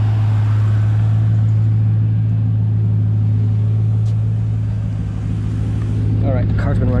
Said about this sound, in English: the car's been running for about 20 minutes